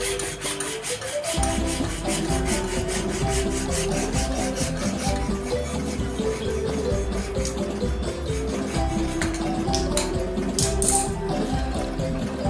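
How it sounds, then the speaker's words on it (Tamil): A saw blade cuts through a piece of wood that has a little oil applied to ease the binding blade, producing continuous, steady rasping strokes that sound close and fairly loud throughout with no talking. "பிளேடு மரத்தில் சிக்குது கொஞ்சம் ஆயில் விட்டுக்கிட்டோம்னா கொஞ்சம் ஈஸியாக இருக்கும்"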